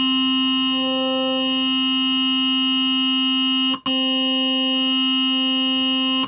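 A steady Studiologic Sledge synthesizer wavetable tone with rich, bright harmonics holds continuously, loud and close, briefly cutting out once before resuming.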